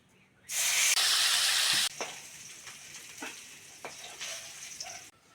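Pati fish fry in hot oil for a village-style fish curry, opening with a loud burst of sizzling hiss for about a second before settling into a quieter, steady crackle with scattered pops.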